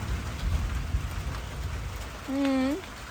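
Rain falls steadily during a summer storm in rural Laos, a soft continuous patter with a few nearby knocks, and a brief rising voice cuts in near the end.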